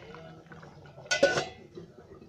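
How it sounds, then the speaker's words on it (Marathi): A metal lid clanks down onto a pan of cooking sheera made from samo (vari) seeds, one short clattering knock with a brief metallic ring, close by in a quiet kitchen. "आता मी झाकण ठेवते 5 मिनिटासाठी"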